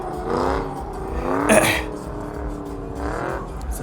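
A drift car revs its engine at a drift event, with rising and falling harmonic engine tones swelling near 0.5, 1.5 and 3.2 seconds, loud and close, over a busy background of crowd and speech-like noise.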